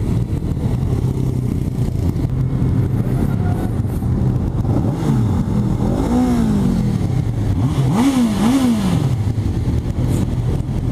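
Honda CB650R motorcycle engine revving loudly up close, a steady rumbling drone broken by several sharp throttle blips that rise and fall in pitch, with no talk over it.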